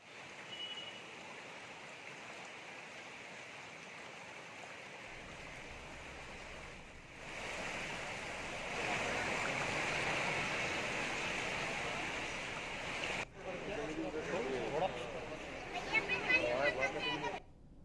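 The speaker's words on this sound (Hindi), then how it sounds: "ये बारिश की वजह से ये नाला काफ़ी बढ़ चुका था जिसमें ये गाड़ी फंस गई थी" A rain-swollen stream rushing hard after heavy rainfall, a steady broad roar of flowing water with wind buffeting the microphone, rising louder midway, with people talking over it.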